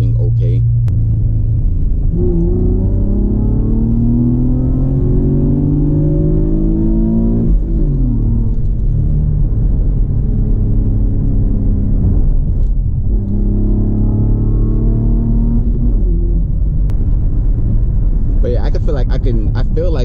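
A 5th-generation Camaro fitted with a Hurst short-throw shifter pulls hard, its engine note climbing steadily, dropping sharply at a gear change, then climbing again. It sounds loud and close, as if heard from inside the cabin.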